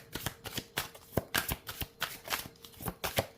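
Tarot cards being shuffled by hand, a steady run of crisp riffling slaps and flutters repeating in quick rhythm, close and fairly quiet, with no talking over them.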